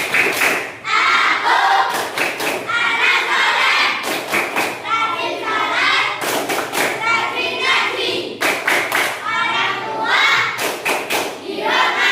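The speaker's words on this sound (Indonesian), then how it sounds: "Tepuk tangan untuk kalian semuanya, ya." Children in a classroom clap in short bursts of applause, with loud rhythmic claps and thumps that pause and resume several times. Children's voices chatter between and under the clapping.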